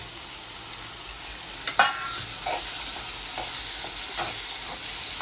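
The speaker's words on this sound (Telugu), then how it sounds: "పచ్చిమిర్చి ఫస్ట్ వేస్తాను. కొద్దిగా వేగినాక అప్పుడు ఉల్లిపాయలు వేస్తాను." Green chillies fry in oil in a pan with a steady loud sizzle, broken now and then by a few spatula scrapes and stirs.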